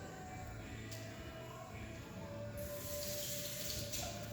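Tap water runs steadily over cabbage being washed in a sink, a continuous faint splashing stream close by with no talking.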